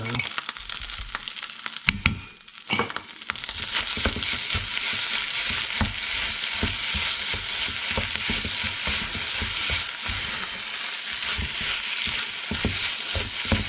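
Crab meat fried rice is stir-fried in a pan with a loud, continuous close sizzle, broken by repeated scraping and knocking of a utensil against the pan.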